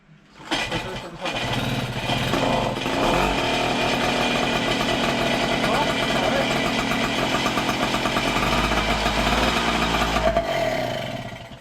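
An MBK 40V AV7 moped with an unrestricted Cobra exhaust starts and runs, a continuous buzzing two-stroke drone close up, steady and loud before cutting off, with voices talking over it.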